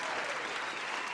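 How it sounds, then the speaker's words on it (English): Brief burst of audience applause at a red carpet screening, dense clapping from many hands at a steady moderate level. "as we get these applause going right now"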